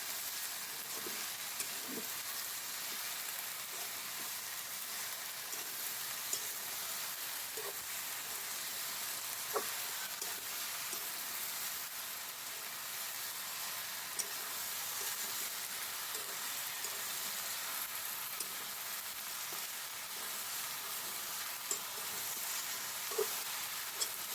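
Okra (bhindi) pieces frying in a pan with a steady, close sizzle, broken by occasional soft scrapes and clicks of stirring, with no voices.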